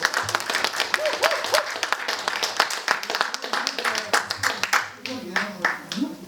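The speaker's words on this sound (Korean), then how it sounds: "뜨거운 박수." Audience applause at a leadership academy lecture in Gwangju, as the guest lecturer is welcomed; steady clapping from a hall crowd with some voices mixed in, thinning toward the end.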